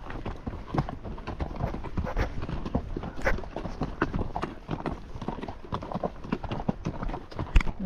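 Horse hooves clip-clop steadily on a ridge trail climb near Loma Alta Trail Head, several horses working uphill with close, continuous irregular footfalls and occasional louder strikes.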